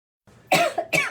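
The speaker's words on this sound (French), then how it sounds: "Mon Dieu, je vais tousser." A single close person coughs in two or three harsh bursts after a short breath, loud and alone in otherwise quiet indoor surroundings.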